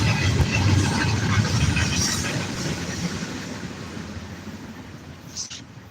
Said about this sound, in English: Finally, fucking train gone.